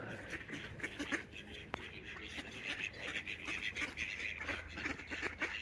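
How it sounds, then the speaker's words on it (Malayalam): Many ducks quack repeatedly at a pond in Kidwells Park, Maidenhead, forming a lively chorus at moderate distance over outdoor ambience. "ഇവിടെ കുറേ താറാവുണ്ട്, താറാക്കൂട്ടുണ്ടല്ലോ"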